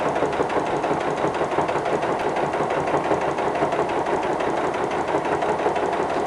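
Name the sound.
sewing machine stitching rag quilt seam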